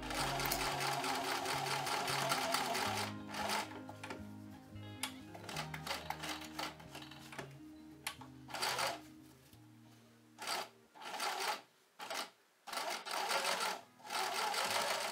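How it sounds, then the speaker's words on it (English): A sewing machine runs slowly along a curved crotch seam of small doll pants, its rapid needle stitching broken by frequent short pauses and restarts, close and clear with no talk. "sew the seam on the machine. This seam is curved, so I am sewing very slowly"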